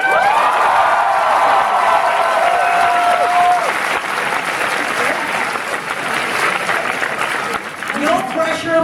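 A crowd applauds steadily at a live event in Toronto, a sustained wash of clapping that holds throughout, with voices talking over it.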